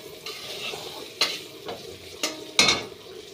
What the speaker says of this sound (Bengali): বেগুনটা প্রায় ভাজা ভাজা হয়ে আসছে